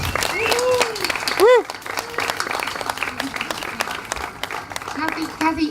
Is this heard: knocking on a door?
no